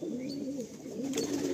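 Chotial pigeons coo in low, rolling murmurs, one soft throaty call flowing into the next over about a second and a half, close by with no speech.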